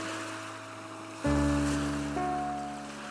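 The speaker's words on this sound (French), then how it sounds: "Le bruit des vagues qui caressent les galets." Sea waves washing over pebbles on the shore, a soft steady wash that swells abruptly partway through, with faint wind, heard alone without voices.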